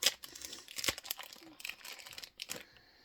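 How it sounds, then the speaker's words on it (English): A small plastic bag holding a fidget toy is torn open and crinkled, with a steady run of close, rustling crackles lasting the whole stretch at low volume and no talk over it. "they all come in little plastic bags. I'm just gonna open one to show you."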